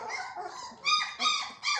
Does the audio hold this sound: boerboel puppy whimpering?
yes